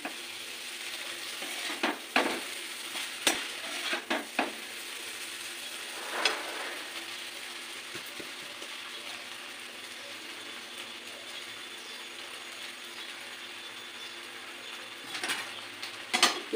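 Restaurant-style mixed chowmein noodles fry in a pan over a low flame, Kolkata street-food style. A soft, steady sizzle runs throughout, broken by several sharp scraping clanks as the noodles are tossed and stirred.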